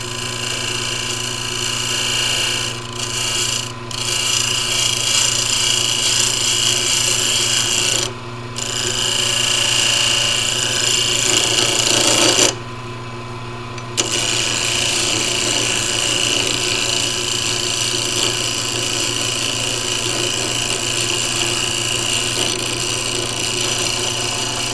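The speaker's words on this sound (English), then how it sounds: "You can take that skew chisel and just kind of line it up." Pen blank turning on a wood lathe under a skew chisel, a steady rasping, scraping hum that runs almost unbroken with a few short dips in between.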